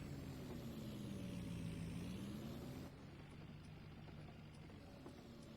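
A pickup truck fitted with a Boss snow plow clearing a commercial lot, its engine droning steadily with a rising and falling whine and a low rumble, faint and at a distance, with no voices.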